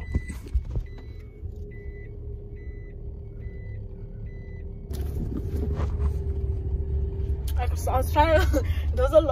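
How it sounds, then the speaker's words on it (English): A small lorry reversing to park sounds a regular, evenly spaced reversing beeper over a low engine rumble that grows louder and closer, with people talking toward the end. "There was a lorry, a small tiny lorry trying to park where I was parking"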